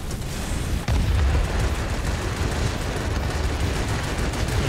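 Rocket explosions from an Il-2 Sturmovik attack aircraft in World of Warplanes, a loud continuous barrage of booming blasts and gunfire with a heavy impact just under a second in, sustained and dense throughout.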